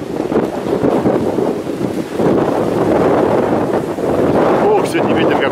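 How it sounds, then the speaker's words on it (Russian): Strong, cold northerly wind buffets the microphone in a continuous rough roar, swelling in gusts, with a voice faintly under it. "Ох, сегодня ветер какой северный."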